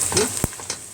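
Boiled meat and sautéed onions frying in a pan for a beans-with-meat dish, a brief soft sizzle with a sharp stirring clack near the middle, close and alone.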